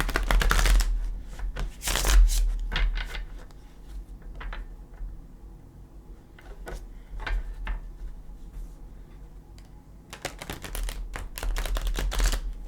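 Gilded Tarot cards shuffle in several bursts of crisp riffling and slapping, loud and close, with quieter gaps of light handling between them and no talk.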